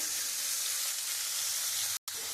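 Chopped onion drops into hot oil with ginger already frying, giving a loud, steady sizzle that fills the clip, broken by one brief silent gap before the hiss resumes.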